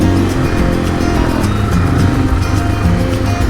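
A 2024 KTM 500 EXC-F single-cylinder dirt bike ridden along a gravelly, potholed road, its engine droning loud and steady close up with rumbling wind noise and no clear gear changes.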